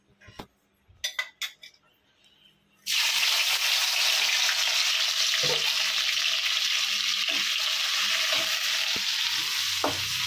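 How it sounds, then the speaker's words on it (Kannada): Green chillies dropped into hot oil set off a loud, steady sizzle that runs on continuously, with a few stirring clinks and scrapes, after some quiet clatter at the start. "ಎಣ್ಣೆಗೆ ಹಾಕಿರೋ ಹಸಿರು ಮೆಣಸಿನ್ಕಾಯಿ ಚೆನ್ನಾಗಿ ಫ್ರೈ ಆಗಬೇಕು"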